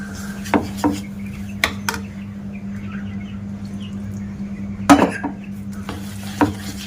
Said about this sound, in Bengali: দিয়ে ভালো করে ব্যাটারটা বানিয়ে নেব